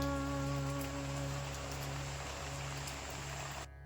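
Steady heavy rain pours down outside an old mud house in a dense, continuous hiss, with a low constant hum underneath until it cuts off near the end.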